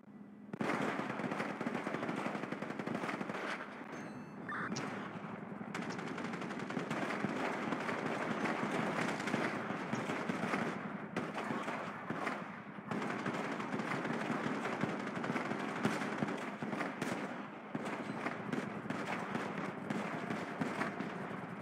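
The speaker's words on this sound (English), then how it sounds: "Be advised, they're shooting lasers." A long stream of rapid popping and crackling blasts, like mock laser fire in a police-versus-Darth-Vader game, runs nearly continuously for about twenty seconds at a steady loud level with only brief dips and no talking.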